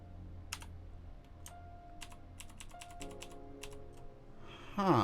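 Keys clack on a computer keyboard in quick irregular bursts of taps, close and fairly quiet, with a soft tonal hum underneath and a brief louder tonal sound at the very end.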